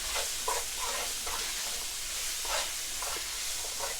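Curry being stirred in a frying pan as seasoning goes in, with a steady soft sizzle and hiss under repeated scraping strokes of a utensil, fairly quiet and close.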